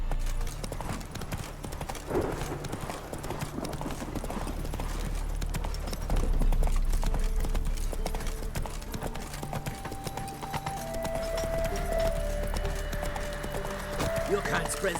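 Horse hooves trot in a steady clip-clop across the Witcher 3 video game world, close and continuous under ambient game music, with voices talking over it.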